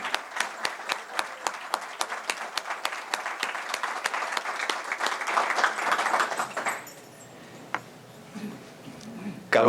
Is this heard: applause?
yes